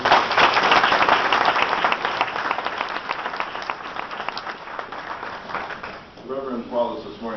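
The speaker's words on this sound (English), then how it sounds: "so we owe them applause" Applause from an audience at a talk, steady dense clapping filling most of the stretch before fading as a voice begins to speak near the end.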